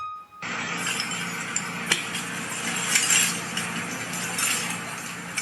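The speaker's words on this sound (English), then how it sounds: "That's the sound of many volunteers sifting through tons of garbage in a deep rock" Steady clatter and clinking of glass, metal and debris as many volunteers sift through tons of garbage close by, with sharp knocks here and there.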